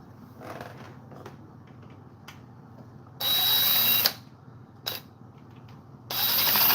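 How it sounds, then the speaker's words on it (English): Power drill backing a screw out during a chainsaw restoration, with short loud whirring bursts separated by quiet pauses and faint workshop clatter. "Back it out with my drill."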